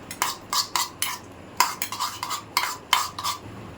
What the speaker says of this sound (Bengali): নুন নিয়ে নিলাম, এবার এটাকে ভালো করে ঘেটে নেবো।